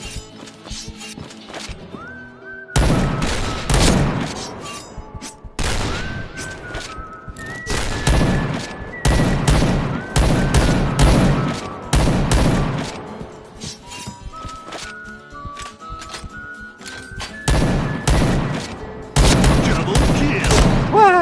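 Gunfire in a shooting video game comes in loud, dense bursts separated by short lulls, with whistling and crashing effects layered between volleys.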